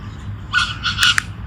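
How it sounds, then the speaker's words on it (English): A few short bird calls, chirpy and fairly close, over a low steady background hum. "there's a few birds around today, which is nice"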